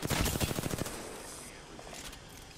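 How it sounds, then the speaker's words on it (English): Rapid automatic gunfire from enemy teams in Apex Legends crackles in a fast volley at the start, then fades into quieter background shots. "now I'm getting shot by both teams"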